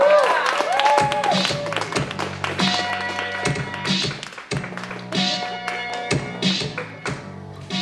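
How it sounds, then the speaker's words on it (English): Audience applause at a live comedy club, clapping heard with music and a voice over it. "How about another round of applause for the incredible power of Mr. Brian Monarch."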